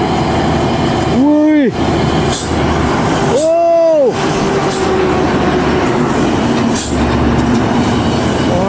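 A bus on a road in Medan, near a red LPG tanker truck, drives past loudly with a rising and falling engine roar and tonal horn-like blasts, under excited talk from people nearby.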